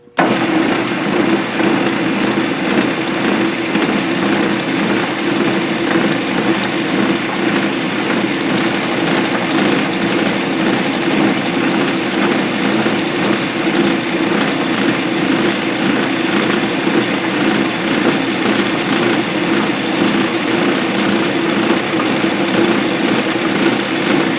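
A metal lathe turns down the outside of a Black and Decker grinder bushing, a steady, loud machine drone with a constant mechanical hum running without pause.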